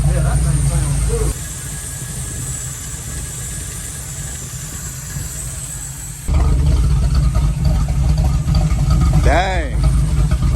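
A big block Trans Am engine with a Quadrajet carburetor idles steadily and close, a loud low rumble that swells slightly louder partway through, with people talking over it.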